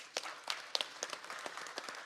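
Audience at a Korean panel discussion on digital innovation claps, a fairly faint, steady patter of many hands with a few sharper individual claps standing out.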